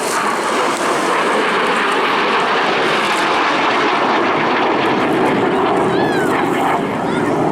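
A Mikoyan-Gurevich MiG-17 jet fighter roars past at an airshow, a loud, sustained broadband jet rumble filling the whole clip, with faint crowd or commentary sounds beneath.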